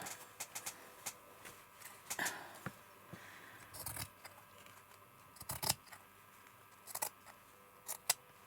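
Scissors snipping through thick fabric for crazy patchwork, a scattered series of quiet, irregular cuts and clicks at close range with pauses between bursts.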